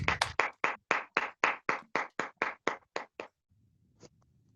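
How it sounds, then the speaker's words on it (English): A short run of sharp, evenly spaced hand claps from an online audience welcoming a guest, loud and close, then a quiet pause with one last faint clap. "let us give a good clap"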